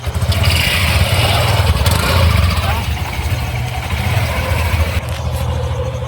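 A motorbike engine runs steadily and fairly close throughout, with a low, continuous drone and slight revving, during a Navratri outing, while people talk over it.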